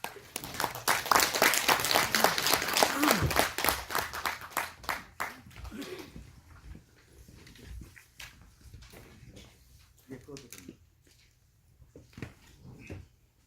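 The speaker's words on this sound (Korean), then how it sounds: "박수로 맞이하시겠습니다" An audience at a lecture breaks into applause to welcome a speaker, loud dense clapping for the first few seconds, then thinning to scattered individual claps that trail off.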